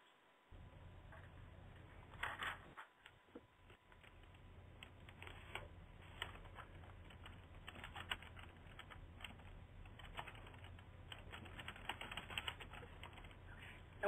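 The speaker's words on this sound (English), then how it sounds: "And we hear some typing" Quiet, quick keyboard typing clatters on and off in bursts over a low steady hum, with no talking.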